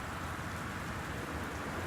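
Steady rain in the video game Gone Home, a dense even hiss of falling drops with faint rumble beneath, constant and moderately quiet with no voices.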